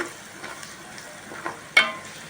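Vegetables fry in oil in a pan, a steady low sizzle with a few soft stirring scrapes and one sharper clink near the end, no voices.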